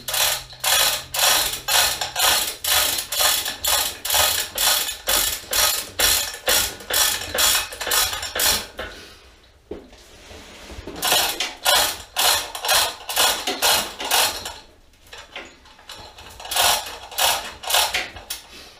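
A hand-cranked ratchet winch pulls a chain to shift a gearbox, giving fast regular clicking strokes that pause briefly around the middle and then resume, close and loud.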